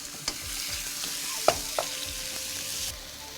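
Beef pieces sizzling steadily in a hot pan as a batch stir-fries, with a few sharp utensil knocks and scrapes over the continuous hiss, which cuts off near the end.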